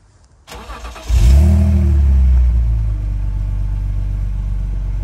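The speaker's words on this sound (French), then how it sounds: "tu te mets au volant, tu démarres et ça fait" A BMW Z4 with an M54 engine cranks briefly, catches with a strong near rumble and a quick rev, then settles into a loud, steady idle.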